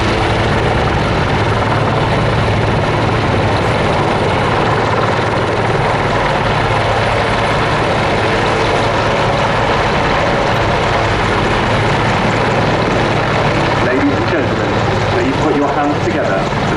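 Army Air Corps Apache gunship helicopter flying at an air show, its rotor and engine roar loud and steady throughout, with a commentator talking over it.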